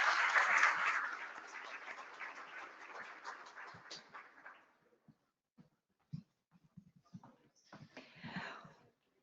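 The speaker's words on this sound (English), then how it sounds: "A big round of applause." Conference audience applause swells loudly at first, then fades over a few seconds into near silence, leaving scattered claps and small stirrings, with a brief murmur of voices near the end.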